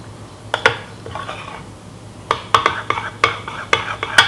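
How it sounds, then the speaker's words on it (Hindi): A spoon stirs several sauces together in a bowl to make burger sauce, giving close, irregular clinks and scrapes against the bowl in short bursts with pauses between, and no talking. "सभी सॉसेस को हम मिक्स करेंगे, और ये बनके तैयार हो जाएगी हमारी बर्गर सॉस।"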